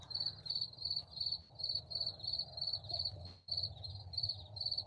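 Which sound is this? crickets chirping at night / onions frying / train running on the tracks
crickets chirping at night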